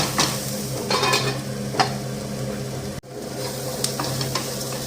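Sliced onion fries in a pan for cucumber poriyal, giving a steady close sizzle with a few stirring scrapes and clinks, no voices.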